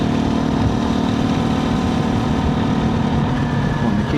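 A 2024 KTM 350 EXC-F dirt bike engine runs at a steady idle close by, out in the desert, as an even, rumbling drone with no breaks over a few seconds.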